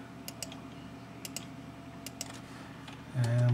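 A computer mouse clicks repeatedly at an ordinary desk, light sharp taps in a loose irregular rhythm, close and fairly quiet, with a brief louder thump at the end.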